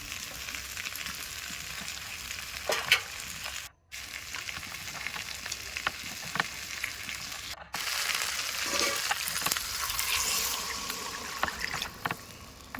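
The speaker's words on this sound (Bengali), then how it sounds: "কাঁকড়াটাও যেহেতু একটু সেদ্ধ হবে তো সেই জন্য আমি কাঁকড়াটাকেও দিয়ে কষিয়ে নেবো" Crab sautés in spice masala in a pan for a cauliflower crab curry, making a continuous close sizzle with stirring scrapes. The sound cuts out twice briefly, and no one speaks.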